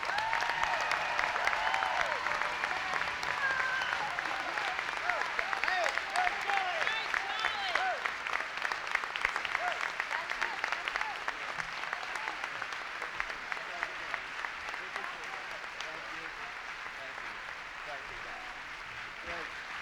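Sustained crowd applause for a senator at Hillary Rodham Clinton's 2000 Senate campaign announcement rally, dense clapping with scattered voices and cheers, loud throughout and slowly tapering.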